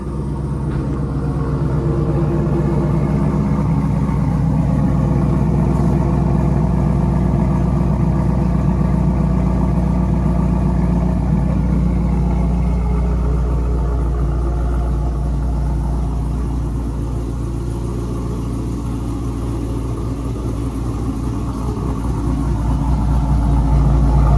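A cammed, supercharged 416 Camaro SS idles after a cold start, a deep, steady rumble close by with a slightly lumpy rhythm and no talking over it.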